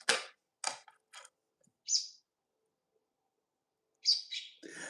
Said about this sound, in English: Do you hear my babies talking to me? They're telling me to hurry up with their bird food.